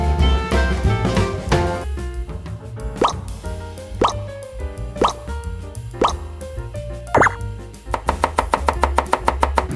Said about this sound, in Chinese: 鸡肉的部分，我们就把它切自己喜欢的大小就好了